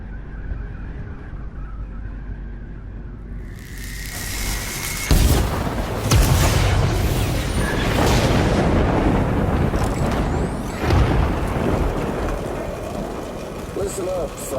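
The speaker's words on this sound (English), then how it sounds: "And then he makes it rain." Rain and thunder in the video game Death Stranding: a low rumble gives way to a sudden thunderclap, then heavy, hissing rain with repeated deep booms, while someone speaks over it.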